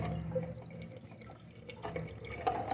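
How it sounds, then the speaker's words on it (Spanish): Water trickles and drips into a toilet tank from a misadjusted Fluidmaster fill valve, a quiet, close, irregular patter of small splashes and running water. "Tu válvula de llenado no está bien regulada y te está tirando agua."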